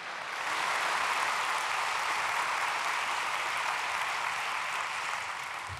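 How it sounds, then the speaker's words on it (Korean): A church congregation at a prayer meeting for peaceful unification applauds to welcome the pastor: a dense, steady wash of many hands clapping that holds evenly throughout with no voices on top. "우리 손 목사님 박수로 환영하시겠습니다."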